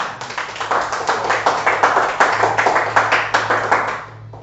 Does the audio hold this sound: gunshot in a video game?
no